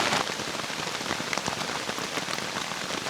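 Steady rain pattering on a forest shelter during a wet night out in the woods, a dense, even hiss of drops with scattered brighter taps, close and continuous with no voices.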